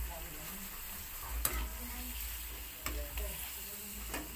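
Squid fries in a pan with a steady close sizzle while a spoon stirs it, scraping the pan three times at a slow, uneven pace.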